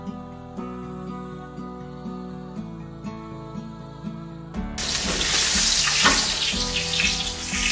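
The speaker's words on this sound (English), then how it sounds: "you're just going to let all that butter come back down to the bottom, and then you're just going to baste" Steak fries in a pan while melted butter is spooned over it, a bright hissing sizzle bursting in loudly after a stretch of soft background music and continuing with crackles to the end.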